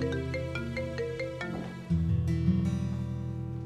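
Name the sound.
mobile phone ringing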